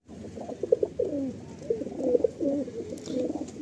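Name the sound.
pigeons cooing in loft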